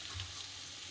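Potatoes fry in a pan on a home stove, giving a soft, steady sizzle that stays faint and continuous, with no talking.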